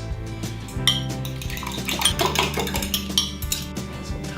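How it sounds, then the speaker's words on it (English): Two eggs cracked into a bowl and whisked while making hot cross buns, giving steady clinking and scraping of a utensil against the bowl, close and continuous, with no talking. "2 eggs, which I might just crack in here and whisk out first"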